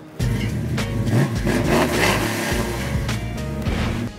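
An Oldsmobile 442 muscle car engine cranks and catches, then settles into a loud, deep, rumbling idle with slight revs, close by and with no talking.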